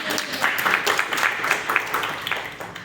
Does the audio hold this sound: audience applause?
yes